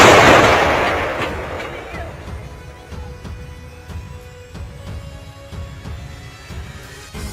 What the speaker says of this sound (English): The devastating and accurate artillery fire destroyed a column of Russian tanks moving through the eastern portion of Ukraine.